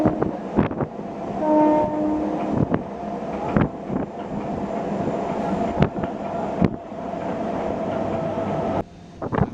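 A MEMU passenger train pulls out of Donakonda station, its steady rumble broken by repeated sharp clanks and rail joint knocks, with heavy wind buffeting the microphone and a brief tonal note early on.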